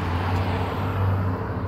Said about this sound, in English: Cars, please slow down.